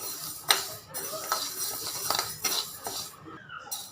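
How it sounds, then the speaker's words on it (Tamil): Moong dal being dry roasted in a pan with a utensil, giving repeated scraping and clinking strokes against the metal, close and moderately loud, with no talking. "இதில் பாசிப்பருப்பு போட்டு வறுத்து எடுத்துக்கலாம்"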